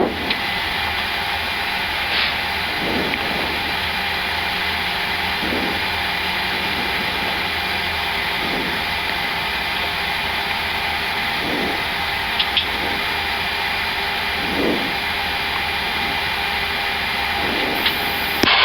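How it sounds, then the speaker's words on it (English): Engine 2 of an Airbus A330-900 spins up during start in the cockpit, a steady whining drone with a high tone held throughout, while faint periodic clicks repeat roughly every three seconds. "Starting engine 2"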